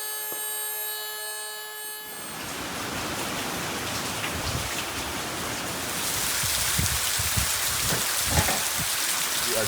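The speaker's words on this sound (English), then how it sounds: "Charleston gets slammed with heavy rain right now." Heavy rain from a tropical storm starts abruptly after a brief quiet stretch, then roars as a dense, steady downpour on surfaces, growing louder near the end, with no talking.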